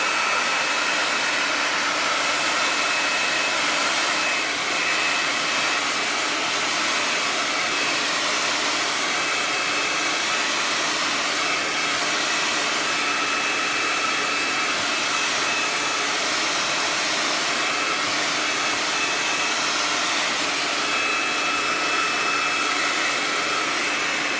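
A hair dryer blows steadily and loudly for the whole stretch, drying wet paint on peel-and-stick paint chips, a constant broadband whoosh with a faint whine and no talking.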